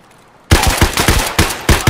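Rapid automatic gunfire in the shooter game Escape from Tarkov bursts out after a half-second of quiet, a loud close series of about eight evenly spaced shots with no voices.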